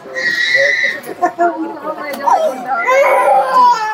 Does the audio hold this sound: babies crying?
yes